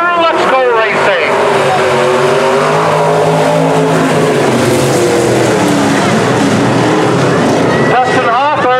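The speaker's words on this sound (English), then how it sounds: "Here they come past the flag stand, and Schrott is going to hang on" IMCA stock cars at McLean County Speedway roar past the flag stand in a loud, continuous rush of engines, with pitch sweeping down as the pack passes close by and a sharp note of another car near the end.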